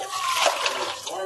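Water poured into a pot of spiced Suhoor food at a mosque kitchen, a steady close pouring and splashing that lasts the whole short moment, with kitchen bustle around it.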